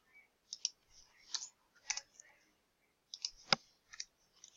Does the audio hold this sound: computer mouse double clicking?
yes